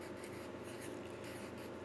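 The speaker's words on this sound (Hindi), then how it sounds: "तो हम आंसर लिखेंगे" A pen writes an answer by hand in a class setting, a faint, steady scratching and rubbing on paper with no voice heard.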